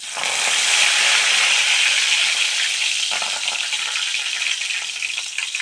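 Dried red chili and curry leaves crackle and sizzle in hot oil, a loud, steady, close frying hiss that fills the whole moment, slightly easing toward the end with no voices.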